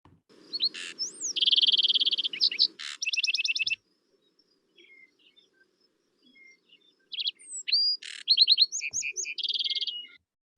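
A songbird delivers fast, trilled, virtuosic phrases of rapid chirps and buzzy rattles in two bursts separated by a pause, clear and close against near silence.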